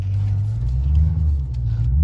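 A Dodge 392 Scat Pack V8 rumbles deep and loud during a reverse burnout, holding a steady low roar with slight surges throughout.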